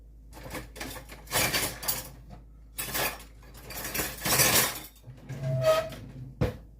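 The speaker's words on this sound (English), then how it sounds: "You can just take a spatula or a spoon" A spatula or spoon scrapes and clinks against a cake dish while making a homemade cake from scratch, giving a series of close, irregular metallic scrapes and taps in short bursts with brief pauses.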